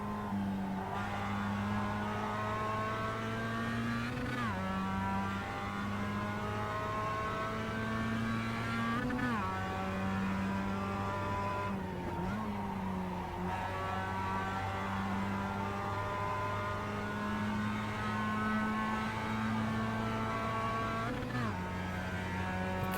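Mazda race car engine at Spa in iRacing, a steady loud drone sustained for the whole stretch, with pitch climbing through each gear and dropping sharply at several shifts.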